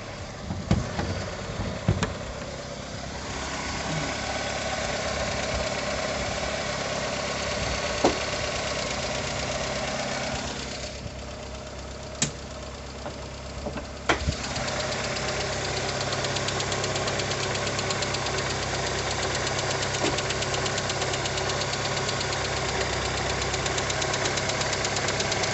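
A cold 1989 VW Golf 2 with a 1.8 carburettor engine (Pierburg carb, automatic) idles steadily at close range, a continuous even mechanical drone with a faint knocking character and a few small clicks, no talking.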